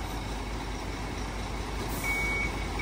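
A tractor head truck with a Transtron reversing warning system sounds its backup alert, a thin tone that rises briefly near the end over a steady, loud wash of engine and road noise.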